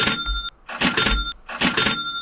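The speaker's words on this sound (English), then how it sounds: "let me give him a ka-ching button" A ka-ching cash register sound effect: three bright, ringing bursts with short gaps between them, loud and close, with no voices.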